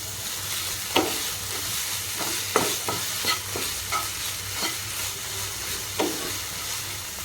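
Tomato fries with ginger garlic paste in a pan, giving a steady loud sizzle broken by repeated scraping stirs and clinks of a spoon at irregular intervals, with no talking.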